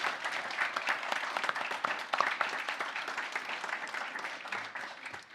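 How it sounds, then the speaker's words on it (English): Dense, sustained clapping from the audience at the Brussels Indo-Pacific Dialogue panel greets the speakers, steady and fairly loud throughout before tapering slightly at the end. "please join me for a warm applause to our excellent speakers"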